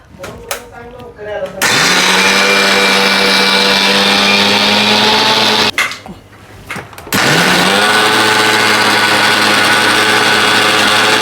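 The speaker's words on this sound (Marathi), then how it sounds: "आता ही डाळ मी बारीक करून घेते मिक्सर लावून पाणी न घालता ही बारीक करावी लागते" An electric mixer grinder runs loud and close while grinding soaked urad dal without water, whirring at high speed, briefly stopping and restarting, with short clatters between runs.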